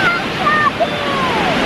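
A waterfall roars with a broad, steady rush of water heard from above, alongside wind noise and a few faint bird-like whistles.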